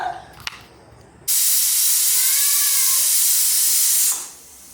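A pressure cooker full of cooked rice vents steam in one loud, steady hiss that bursts on suddenly, holds strong for about three seconds with a faint whistling tone, then dies away.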